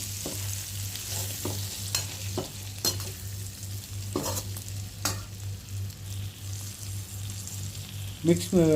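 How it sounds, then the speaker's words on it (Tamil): Masala frying in oil in a pan as it is stirred, a soft continuous sizzle broken by regular sharp spoon scrapes and taps, with a low steady hum behind it and brief speech. "மசாலா சேர்த்ததும் அந்த எண்ணெயிலே நல்லா பரட்டி விடுங்க."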